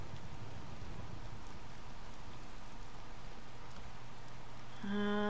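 Steady rain in Skyrim patters in a continuous soft hiss, with a low hum beneath; near the end a brief tonal chime cuts in.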